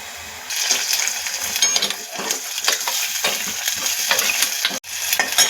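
Onions sautéing in oil in a pan for moong dal, a continuous sizzle with scraping strokes of a spoon, and a sharp metallic knock near the end.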